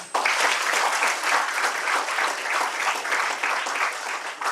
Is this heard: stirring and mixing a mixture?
no